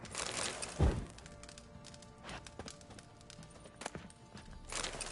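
Horse hooves clip-clop in The Witcher 3, as a rider dismounts: a few scattered hoof knocks and thuds, moderately loud, over a quiet in-game ambience.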